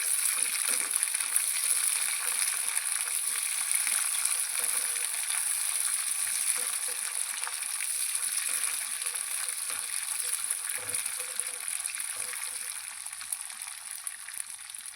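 Green chillies and peanuts frying in a pan for Andhra-style coconut peanut chutney, a bright, even crackling sizzle that runs on without a break for the whole stretch, close and with no talking.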